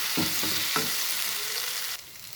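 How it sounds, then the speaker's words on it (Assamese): Potatoes and masoor dal are stirred in a hot pan, giving a close sizzling fry with a few spatula scrapes early on, then steady crackle that drops off near the end. "এতিয়া ইয়াতে গোটেইখিনি লৰাই দিছোঁ ভালদৰে"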